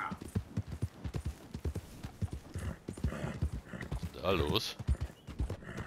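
Horses in the video game Red Dead Redemption 2 in the town of Valentine clop their hooves in an uneven rhythm with a short whinny, mixed with talk from people in the clip.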